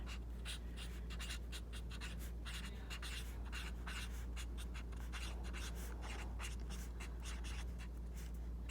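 Pen scratching across paper while handwriting notes on the steps of a bill becoming law, steady soft strokes and scribbles over a low constant hum, close and quiet with no voices.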